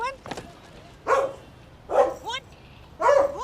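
A child imitates a dog, letting out three loud, rhythmic barking yelps evenly spaced about a second apart, with voices around it.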